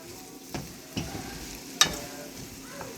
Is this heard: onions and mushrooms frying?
yes